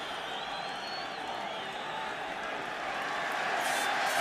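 A rugby stadium crowd at a 1984 Australia versus Wales international cheers a debutant substitute coming on, a broad sustained roar of cheers and applause that swells slightly toward the end.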